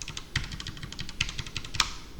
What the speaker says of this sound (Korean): 지금 제가 방향키 좌우 이렇게 막 눌러볼게요.